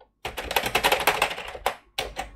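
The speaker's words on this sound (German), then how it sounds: "die Tastatur hört sich genauso an und fühlt sich auch genauso an wie die Originale" Keys clack on a C64 (2019) replica of the Commodore 64 home computer keyboard: a quick, close run of keystrokes, then a pause and a few separate presses.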